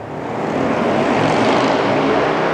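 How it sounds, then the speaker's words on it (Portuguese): A loud motorcycle with an open exhaust passes nearby, a rough, broad roar that swells and stays heavy throughout. "passando uma moto barulhenta lá"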